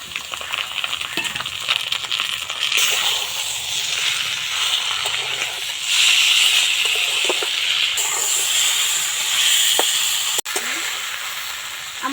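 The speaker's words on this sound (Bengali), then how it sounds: "আলুগুলো ভাজা হয়ে গেছে এবার কচুর পাতা দিয়ে দেবো" Taro leaves added to a hot pan of fried potatoes give a loud, continuous hissing sizzle that swells partway through, with a few faint utensil knocks and one sharp click near the end.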